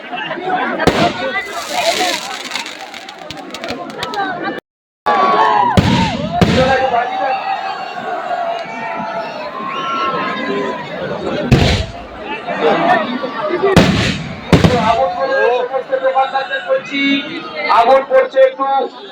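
An outdoor fireworks show at a Raas festival ground in 2025 sets off loud, irregular booms and crackling bursts. A murmuring crowd surrounds the explosions, and an announcer speaks almost continuously over the din.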